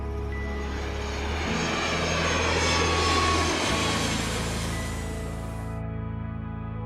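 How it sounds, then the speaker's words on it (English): Airplane sound effect: a loud, continuous engine roar that builds to a peak near the middle, then eases slightly before cutting off abruptly near the end. "And an airplane is very loud and has a high frequency."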